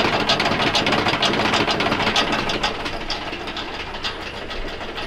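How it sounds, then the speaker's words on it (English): A loud, steady mechanical roar of a tractor spinning a 1200 kg forestry cutter, running continuously, with a rough rattling texture throughout and no voices. "Let's fire the tractor up and spin it slowly"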